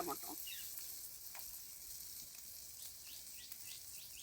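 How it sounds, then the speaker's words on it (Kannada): Tomato and moringa egg burji fries quietly in a pan with a faint, steady sizzle and a few light scrapes and clicks, with no one talking. "ಇದು ಸ್ವಲ್ಪ ಫ್ರೈ ಆಗಲಿ"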